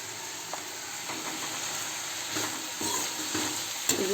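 Green chillies and spices sizzle in a hot pan, giving a steady bright hiss with a few soft stirring scrapes and small pops over a short stretch.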